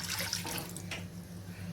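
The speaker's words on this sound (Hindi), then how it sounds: "कप पानी डाल रही हूँ" Water poured from a large cup into a pot for sugar syrup, a brief steady splashing stream close by.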